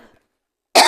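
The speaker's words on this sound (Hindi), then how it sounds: "तो खांसी आवे लगा अचानक से," A single sudden dry cough bursts out close and loud after a moment of near silence.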